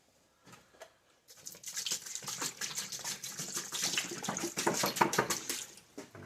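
After a few quiet taps, a gush of water pours over .50 Beowulf brass rifle cases during a post-tumbling rinse, a continuous splashing stream that grows stronger and stays close until the end.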